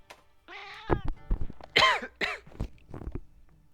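A cat companion in Monster Hunter Rise gives several short, high, kitten-like meows, close and clear, with a human cough and throat-clearing in between.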